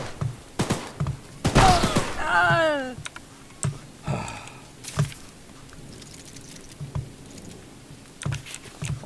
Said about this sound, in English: I'm literally shooting this guy